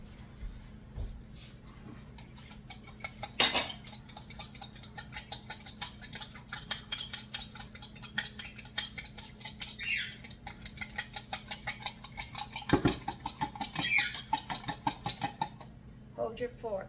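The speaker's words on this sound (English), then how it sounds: "Hold your fork not in horizontal but in a vertical position when you beat, and it'll beat that egg in really nice" Fork beating an egg in a bowl while making blueberry scones, held upright to whisk: a steady run of quick, light ticking clicks over many seconds, close and fairly soft, with a couple of louder knocks along the way.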